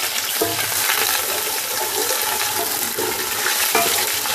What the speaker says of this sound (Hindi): इनको अच्छे से भूनना है।